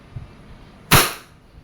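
A Wingun 708 airsoft revolver fires a single plastic BB in single action, one sharp snapping crack close by after a faint click, with a short decay into quiet.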